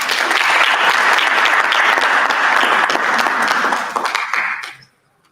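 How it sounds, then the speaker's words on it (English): An audience at an educators' symposium applauds loudly with dense, sustained clapping that fades out quickly near the end, leaving silence. "Let's clap hands for her."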